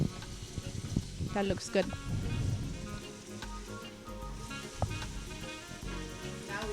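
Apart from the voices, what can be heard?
onion and paprika sautéing in a pan for Ethiopian misir wat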